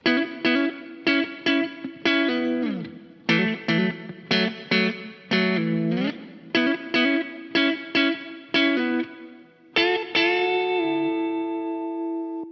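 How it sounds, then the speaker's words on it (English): A third electric guitar part on a pop country chorus plays a hooky, bright riff of short clipped note groups in a bouncy rhythm with light effects, ending on a long ringing note, close and alone. "And then the third guitar part on the choruses sounds like this."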